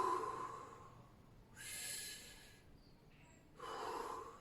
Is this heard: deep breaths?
yes